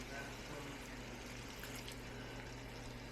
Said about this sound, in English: Maybe a little more chicken broth.